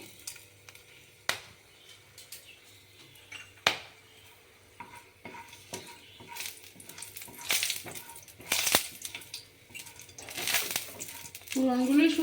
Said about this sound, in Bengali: কড়াইতে ঘি দিয়ে দিয়েছি তাতে দারুচিনি এলাচ লবঙ্গ পুরনে দিয়ে দিচ্ছি